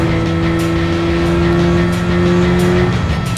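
A Mazda RX-8 engine in Need for Speed: Underground 2 on PS2 sings with a loud, steady rotary drone at high revs, its pitch holding then shifting near the end, with faint tire noise and no voices.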